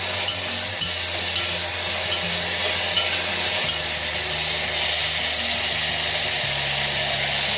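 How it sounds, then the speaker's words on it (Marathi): Tomatoes and peas being stirred in a pan with cauliflower and carrot for masale bhat, a continuous loud sizzle and scraping over several seconds beneath a droning background tune, no speech. "टोमॅटो आणि वटाणे आता आपण हे हलवून घेऊया"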